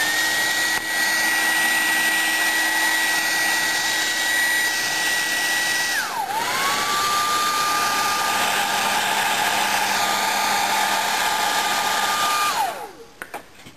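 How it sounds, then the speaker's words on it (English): A hair dryer drying a coat of paint blows with a loud, steady close whoosh and whine, shifting pitch once midway as the setting changes, then cutting off at the end. "We're going to dry it."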